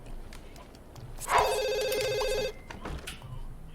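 A telephone rings in The Sims 2, a single sustained electronic ring tone lasting about a second, fairly loud and clear over quiet game background.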